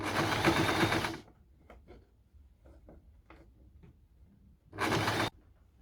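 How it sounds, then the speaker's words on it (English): A sewing machine stitching an elastic band onto a skirt runs in a loud, close burst, stops for a few seconds of quiet handling noises, then whirs again briefly. "here's the outcome after sewing the elastic band. So I did the stitches twice."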